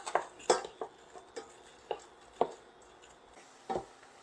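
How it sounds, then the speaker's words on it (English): Sliced onions stirred in a pan, with a spoon clinking and scraping against the cookware in irregular, separate knocks over a faint sizzle, close and without speech. "we're going to stir this continuously for 12 to 15 minutes until the onions start to get a little golden"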